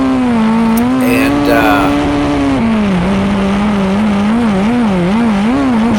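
Race car at Indianapolis Motor Speedway, its engine a loud, steady, close onboard drone whose pitch wavers up and down as it works through corners, continuous for the whole stretch.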